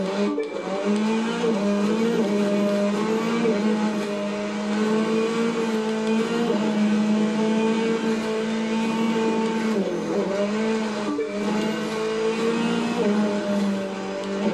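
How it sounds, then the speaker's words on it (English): A rally cross car engine in The Crew 2 racing game drones and revs steadily at high pitch, loud and continuous with slight dips in tone. "Listen to the engine."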